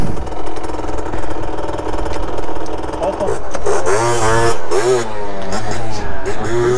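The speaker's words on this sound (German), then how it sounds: "Er macht einen Wheelie." A motorcycle revs loudly nearby during a wheelie on a group moped ride, its engine note rising and wavering in pitch over a steady background rumble.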